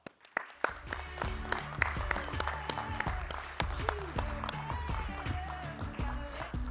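A conference audience gives a round of applause as a panelist is introduced at a policy panel event, sharp claps building quickly into sustained, fairly loud clapping from a sizable crowd, with music-like tonal sounds underneath.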